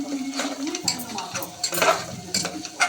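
Egg curry being stirred in a pan, with brisk scraping and clinking of a spoon against the metal over a soft bubbling sizzle, close and fairly loud across a few seconds.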